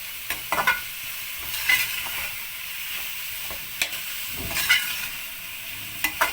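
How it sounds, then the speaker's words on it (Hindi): Chicken pasta with chili sauce sizzling in a pan, a close, continuous hiss broken by periodic scraping stirs, with no talking. "2 मिनट और हम इसको फ्राई करेंगे"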